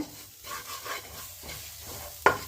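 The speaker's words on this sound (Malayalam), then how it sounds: "ദേ അവയിലിനുള്ള തേങ്ങ വറുക്കുകയാണ്" Grated coconut dry-roasting in a pan for aviyal gives soft scraping stir strokes with a faint sizzle at moderate volume, ending in one sharp clink near the finish.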